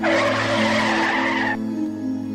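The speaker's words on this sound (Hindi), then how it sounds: "माया के पापा गाड़ी चलाते चलाते अचानक से गाड़ी के ब्रेक लगाते हैं" A car brakes suddenly, tyres skidding in a loud screeching squeal for about a second and a half, then cutting off to leave a low engine hum.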